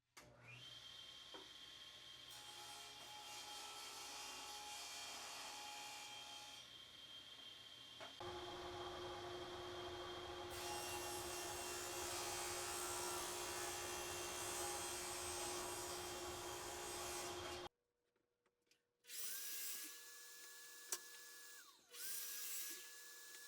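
A saw cutting plywood, a long steady high-pitched motor whine with cutting noise that shifts in tone partway through, then stops, followed by brief restarts, loud and close with no talk.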